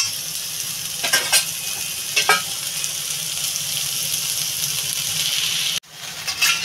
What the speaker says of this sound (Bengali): আমার সয়াবিনটা বেটে ভাজা হয়ে গেছে